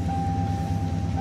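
A Ford F-250 pickup with a 7.5-liter 460 engine idles with a steady, deep low rumble and a faint constant whine above it. The sound is close and continuous, with no voices.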